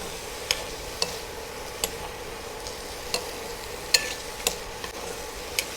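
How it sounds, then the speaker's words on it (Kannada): Food frying gently in a pot: a soft, steady sizzle runs throughout, broken by sparse, sharp ticks of stirring, with no voices. "ನಾವಾಗೆ ಇದನ್ನಷ್ಟೇ ಫ್ರೈ ಮಾಡ್ಕೊತೀವಿ ಮೈಲ್ಡಾಗಿ."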